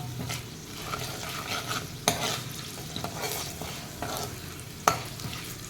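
Green chillies and asafoetida sautéing in a pan, with a continuous frying sizzle and repeated stirring scrapes plus a couple of sharp utensil knocks.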